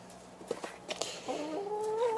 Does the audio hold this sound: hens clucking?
yes